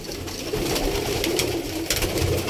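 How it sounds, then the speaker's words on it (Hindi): Pigeons in a loft give soft cooing calls over a constant noisy background, with a few brief sharper sounds standing out. "ये देखें सारे कबूतर माशाल्लाह।"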